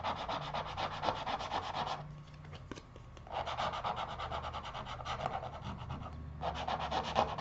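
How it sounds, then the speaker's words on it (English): Contact paper stencil letters are burnished by hand, giving steady close rubbing strokes in two long bursts with a short pause between, then a third burst begins; no talking. "I'm just gonna burnish the letters"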